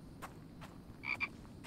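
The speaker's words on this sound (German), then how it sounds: "Ein Frosch." A frog croaks in the survival video game The Infected, giving a short double croak amid quiet ambient game sound.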